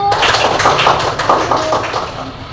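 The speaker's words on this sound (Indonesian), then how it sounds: "Beri tepuk tangan dari buat kelompok 1" A classroom of students claps for a group of classmates, a dense steady patter of many hands lasting throughout, fairly close and loud with some voices mixed in.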